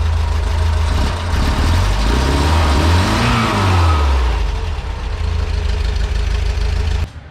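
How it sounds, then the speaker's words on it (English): A car engine idles with a low rumble, then revs up and winds back down once, loud and close, before settling again. "I can rev it and it doesn't like die down."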